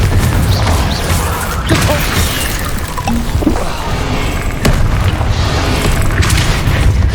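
A Confringo explosion spell goes off in Hogwarts Legacy, with loud, dense booms and crashing blasts rolling on without a break and no voices.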